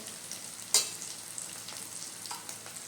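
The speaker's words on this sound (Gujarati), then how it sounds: "આપણો મસાલો પણ સરસ સતળાઈ ગયો છે" Masala of chilli paste, ginger-garlic paste, salt, turmeric and coriander-cumin powder fries in oil with tomato, giving a soft, even sizzle with one sharp utensil clink near the start and faint stirring afterwards.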